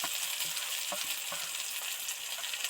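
Chopped coriander leaves scattered into hot oil with tomatoes for a fish-and-egg dish give a soft, steady sizzle and hiss, faint and fairly even, with a few light ticks and no voices.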